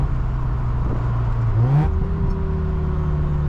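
A Mazda RX-7 FC rotary engine revs up and settles during downshifts with rev-matching billet pedals, heard from inside the car as a loud, close engine drone with a quick rising blip.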